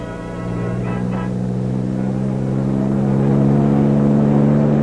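A Hiller Rotorcycle ultralight personal helicopter from 1957 runs its 45-horsepower two-stroke engine, a loud, steady droning hum that holds an even pitch and grows slightly louder toward the end, with no voices.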